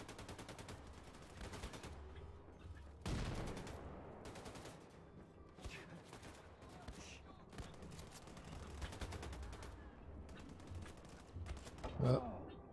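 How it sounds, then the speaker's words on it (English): Gunfire in Wolfenstein II: The New Colossus comes as repeated bursts of automatic fire with scattered single shots over about thirteen seconds. It is fairly quiet and mixed with game sounds and some voices. "Who's shooting at me?"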